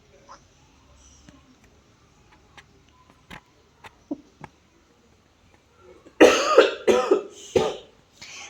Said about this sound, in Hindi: हमारे परमेश्वर को खांसी आई।